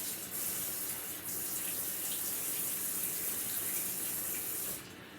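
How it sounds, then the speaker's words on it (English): Tap water runs steadily while someone washes their hands at a sink, a continuous close splashing hiss that stops near the end. "Wash my hands."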